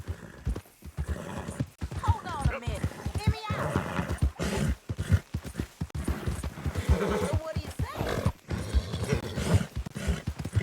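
Hooves clip-clopping in a steady rhythm with a horse whinnying in Red Dead Redemption 2, under a voice speaking throughout.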